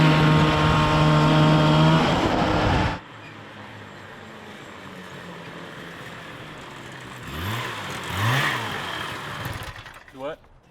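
A 440cc Murray engine running on a 32 to 1 fuel mix roars steadily and loudly, then cuts out abruptly, leaving a quieter hum with a couple of rising and falling revs near the end.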